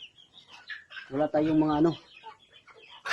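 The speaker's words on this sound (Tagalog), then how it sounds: "Yan yung tandang ko dito guys, Rhode Island Red." A Rhode Island Red rooster and hens on a small farm give a short, loud clucking call amid soft chicken chatter, while someone talks nearby.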